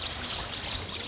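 Water flowing along an irrigation channel, a steady broadband rush with a soft trickling texture, continuous and fairly close throughout, with no voices.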